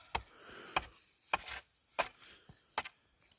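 Six sharp hatchet chops into a tree trunk to cut chip marks, evenly spaced, crisp woody thwacks close by with no talking.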